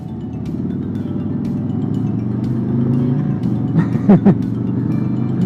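A 114 motorcycle engine pulls steadily under acceleration while being ridden, a continuous low rumble with a brief rising rev burst near the end.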